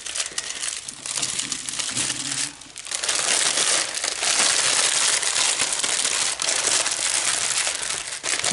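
Packaging from a partnership unboxing being unwrapped and crumpled, loud close crinkling and crushing of plastic and paper that runs almost continuously, with one short lull before it resumes harder.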